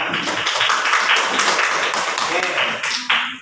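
Classmates in an Indonesian classroom clap together after a student's answer, a dense burst of hand claps that fills the room for several seconds and then breaks off abruptly.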